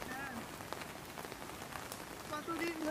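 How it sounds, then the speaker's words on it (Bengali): Steady rain patters on surfaces outdoors at a lotus wetland on a travel outing, a dense continuous wash with voices talking faintly in the background. "এই বৃষ্টি"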